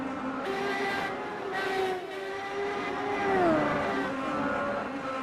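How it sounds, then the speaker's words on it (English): Onboard engine note of an IndyCar circling the Watkins Glen track, a loud steady drone that rises and falls with shifts and throttle changes, heard close up with no talking. "You're on board right now with the 65 of Eric Davis as he continues his run out there on the track"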